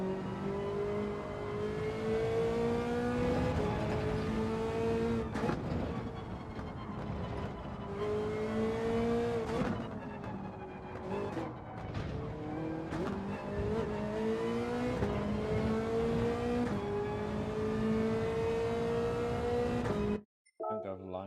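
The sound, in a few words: race car engine driving, from the video game Gran Turismo 7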